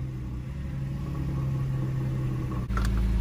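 A car engine idles steadily and close by with a low, constant hum, then a brief dip around the restart before the idle returns at a slightly louder level.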